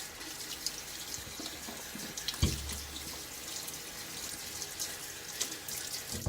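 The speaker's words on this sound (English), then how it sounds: "Rinse out the threads of the container." Tap water runs steadily while a shaving soap container is rinsed out at a sink, with a soft thump partway through and a continuous hissing splash throughout.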